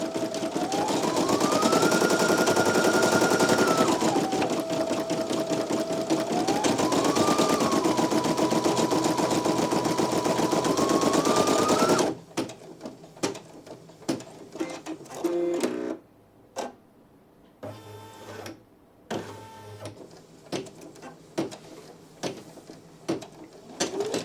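A Brother PE-900 embroidery machine stitches in a fast, steady mechanical chatter with a whining motor that rises and falls in pitch, then stops, leaving quiet clicks and handling noises.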